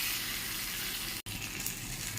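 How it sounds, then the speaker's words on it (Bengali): Fried eggplant with cumin powder, salt and turmeric sizzles steadily in a pan and is stirred, with a brief cut in the middle of the hiss. "জিরে গুঁড়ো দিয়ে ভালো করে নাড়াচাড়া করে নেব"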